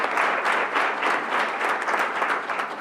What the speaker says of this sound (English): Let's give Mom a round of applause.